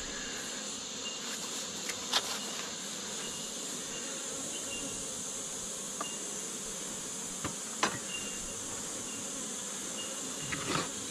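Honey bees drone in a steady, soft hum at an open beehive during an inspection, with a few faint clicks and knocks over the continuous buzzing and no voices.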